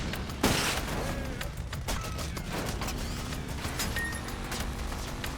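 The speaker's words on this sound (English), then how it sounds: "I think this is probably a 2 gauge shotgun with how big those shots are." Heavy shotgun blasts in the video game Sand Land: one loud, booming shot near the start, then fainter scattered bursts and clatter.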